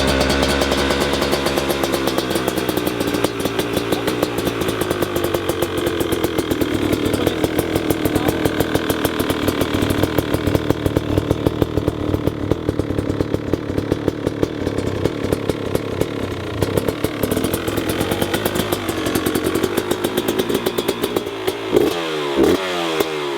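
A new motorcycle engine, barely run and flooded, fires up on the starter and runs loud and rough nearby, a rapid buzzing chatter with rising revs throughout before sputtering and dropping off near the end.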